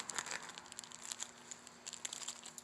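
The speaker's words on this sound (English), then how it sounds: "You just cut the bag back open." A plastic piping bag crinkles and rustles as it is cut open, in soft close crackles over a couple of seconds with no voice.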